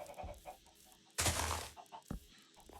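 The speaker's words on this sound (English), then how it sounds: "Yes, chickens. Chicken army breed!" Minecraft chickens cluck in short, soft calls scattered through a quiet game scene, broken once by a loud noisy burst in the middle.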